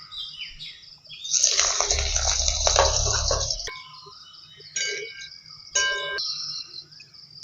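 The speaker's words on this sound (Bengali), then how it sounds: "এর মধ্যে আলুগুলো আমি দিয়ে দেবো" Potatoes tipped into a frying pan with hot oil, a dried red chilli and a bay leaf, starting a loud burst of sizzling that settles into quieter crackling, with a few later clatters.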